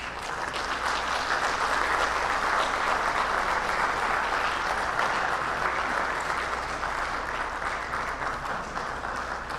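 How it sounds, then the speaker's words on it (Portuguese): An audience at an academy induction ceremony gives sustained applause for new members, a broad, even wash of clapping from a large crowd in a hall that holds steady throughout. "recebam agora os novos acadêmicos com uma salva de palmas"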